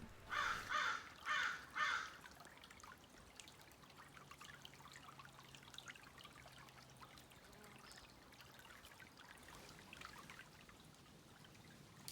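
Sonoma Creek trickles softly and continuously in the background. Three loud crow caws ring out near the start, and the gentle water flow carries on alone afterward.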